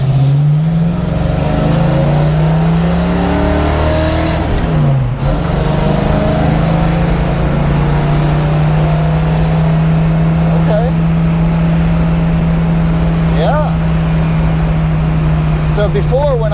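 A 1968 Ford Mustang with upgraded handling cruises along the road at moderate speed, its engine giving a loud, steady drone with road and cabin noise, and someone talks over it from inside.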